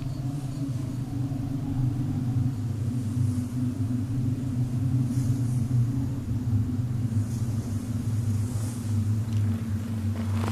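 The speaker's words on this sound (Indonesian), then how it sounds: "Itu badai. Kita harus berlindung." Steady low rumble of an approaching storm, a continuous deep drone holding at an even level throughout, with faint airy noise above and no voices.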